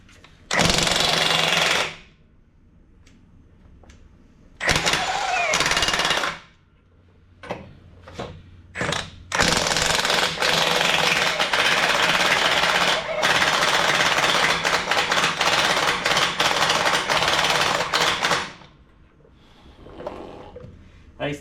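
An impact wrench breaks loose painted lug nuts on a bus wheel in loud, rattling hammering bursts, some short and some sustained for several seconds, with quieter gaps between them.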